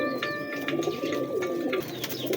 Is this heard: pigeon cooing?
yes